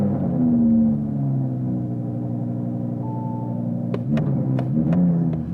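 A cold 2021 Audi R8 V10 Performance idles with a deep, steady rumble, then a few sharp clicks and a brief rise in engine pitch follow near the end.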